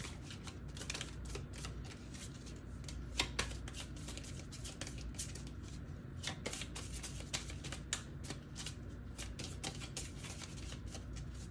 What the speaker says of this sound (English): So let's go ahead and pull some romance oracle cards.